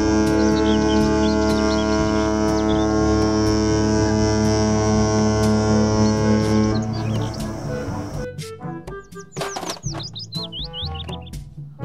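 A cruise ship gives a loud, steady droning hum with layered tones for about seven seconds. It then fades into scattered high chirping sounds.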